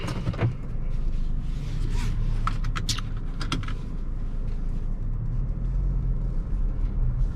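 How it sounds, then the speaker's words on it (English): A 2023 Kia Sportage X-Line AWD sets off on a drive, heard from inside the cabin as a steady low engine and road rumble, with a few brief clicks and taps near the start. "Let's drive the vehicle now."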